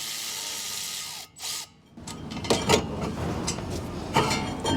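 Power tool spinning out the rear brake caliper bolts on a 2014 Mazda 3 2.5L, a loud high whir with short bursts, then a rattling mechanical whir and clatter close up.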